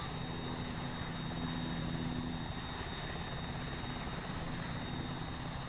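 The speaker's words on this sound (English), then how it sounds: "Red team, get in the helicopter." A military helicopter in the ARMA video game gives a steady, loud rotor and turbine roar with a constant high whine, filling the whole clip without pause.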